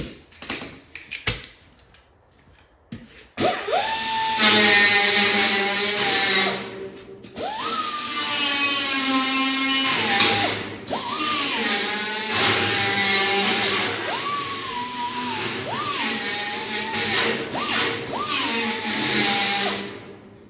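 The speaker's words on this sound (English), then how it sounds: "I got my deburring bit here, so we can get that back side cleaned up" A drill fitted with a deburring bit smooths a rough cut metal edge on a 60 gallon air compressor tank. Loud, close whining bursts rise and fall in pitch, several spurts separated by brief pauses, with no talking.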